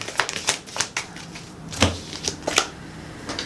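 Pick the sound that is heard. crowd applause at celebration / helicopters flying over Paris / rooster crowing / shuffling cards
shuffling cards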